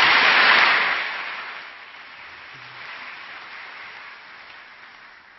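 Church congregation applauding to welcome a speaker at an early-morning prayer service, a burst of dense clapping that swells briefly, then thins into a softer, lingering patter.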